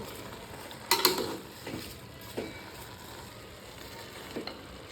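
A jaggery mixture is mixed in a pan, giving a few faint scraping and stirring strokes with a brief louder burst early on, then soft intermittent scrapes over a quiet background.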